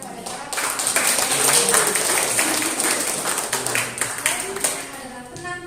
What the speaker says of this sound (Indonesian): Sekali lagi mari beri tepuk tangan yang meriah kepada para